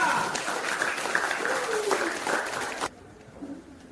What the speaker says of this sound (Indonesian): Beri aplaus untuk kelompok 2